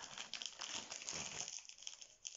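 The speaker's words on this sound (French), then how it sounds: "Maintenant, je vais ouvrir la case 18 du thé." A cardboard advent calendar compartment holding tea being pulled open, quick crinkling and rustling of paper and packaging, faint and close, lasting a couple of seconds with no talking.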